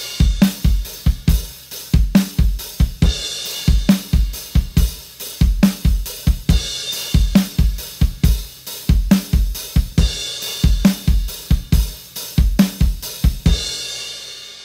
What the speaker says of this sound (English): In the first part, he's playing a groove with a lot of 16th note bass drums.